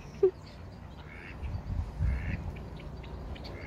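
Ducks on a farm give a single sharp quack near the start, followed by soft rustling and faint movement as they wander off.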